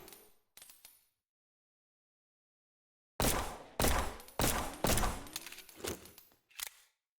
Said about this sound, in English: They're shooting something else